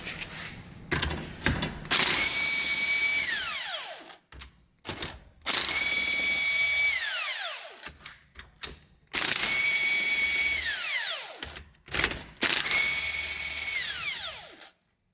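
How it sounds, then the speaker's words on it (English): Several long bursts of a power impact tool or drill running on 17 mm differential bolts of a Nissan 350Z or G35 rear differential, each burst loud and close, separated by short pauses with clicks and handling noises, no talk. "Then you're going to take a 17 and remove the bolts."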